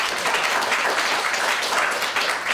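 A conference audience in a hall applauds steadily, dense overlapping clapping from many people filling the whole stretch at an even level.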